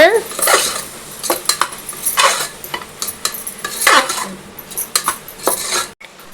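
A metal spoon stirs mushroom biryani masala in a pot, with repeated clinks and scrapes against the sides over a faint sizzle, close and lively, ending abruptly.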